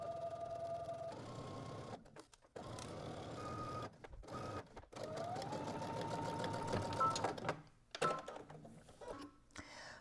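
A sewing machine stitches a 5/8-inch seam around fabric in a series of bursts: rapid mechanical whirring runs, brief pauses between them, close and moderately loud.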